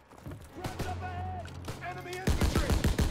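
Rapid gunfire crackles in the Call of Duty WW2 game, with scattered shots early and a dense burst of machine-gun fire at the close, all loud and near. Game noise and a voice sit underneath.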